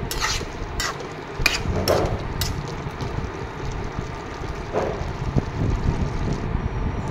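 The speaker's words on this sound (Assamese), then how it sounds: "এইখিনিও এনেদৰে তল ওপৰ কৰি লৰাই দিছোঁ" Soybean chunks with cumin and chili powder are stirred in a pan: a few scraping strokes at first, then a steady low sizzle close by.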